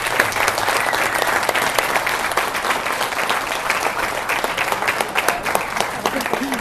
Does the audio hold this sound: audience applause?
yes